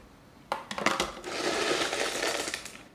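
Boiled, soaked and cleaned LECA clay pebbles are poured into a pot during orchid repotting, starting with a few sharp clattering knocks and then settling into a steady rattling cascade, close and fairly quiet.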